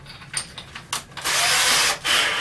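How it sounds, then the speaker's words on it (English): A large drill bit grinds into wood in short bursts while countersinking holes, then runs steadily and loudly up close with a brief dip before continuing. "to countersink it, I'm literally just using a large drill bit"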